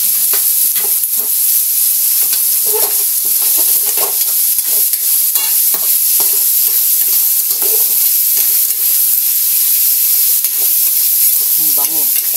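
Pork igado fries in a pan while being stirred, a constant loud sizzle with scraping stirring strokes throughout and no clear talking.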